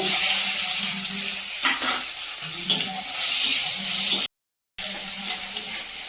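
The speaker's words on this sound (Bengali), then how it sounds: "তেলের মধ্যে দিয়ে দেবো গোটা জিরে, কুচানো রসুন, পেঁয়াজ কুচা, টমেটো" Whole cumin, chopped garlic, onion and tomato sizzle in hot oil with a steady, close frying hiss, a few stirring scrapes and a brief silent gap near the end.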